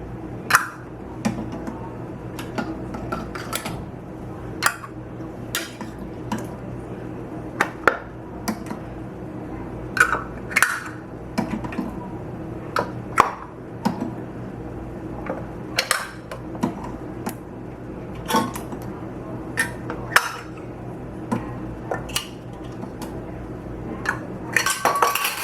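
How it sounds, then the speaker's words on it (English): Metal lids are set onto glass canning jars one after another, a string of sharp, light clinks and taps in an irregular rhythm, fairly quiet and close, with no talking. "put my lids on."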